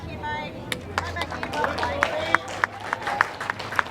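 A few spectators clap at the 2023 World Bowls Championships women's triples final, sharp distinct claps in a loose, irregular rhythm, moderately close, under a commentator's voice.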